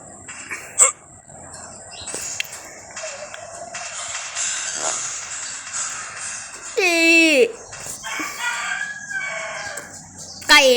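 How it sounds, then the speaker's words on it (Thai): A rooster crows once, loud and near, with chickens clucking and a dog barking around it while someone talks over much of the scene. "ผมขออภัยด้วยนะ ถ้าเกิดว่ามีไก่ขันอะ"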